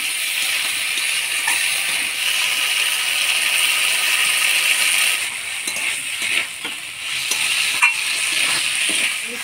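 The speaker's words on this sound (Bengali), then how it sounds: "অল্প মশলার বাটি ধোয়া জল দিয়ে ভালো করে আলুর সাথে মশলাটা কষানো।" Potatoes sautéing in a pan with a ground paste of coriander, ginger and green chili, loosened with a splash of water. A steady, bright sizzle runs throughout, broken by scraping stirs and small clicks of the spoon, with no talk.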